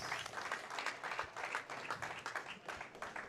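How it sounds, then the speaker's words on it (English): A crowd at the finals of a bowling open applauds, a dense patter of many hands clapping at moderate distance with slight swells, heard alone without speech. "He gets the crowd approval right there."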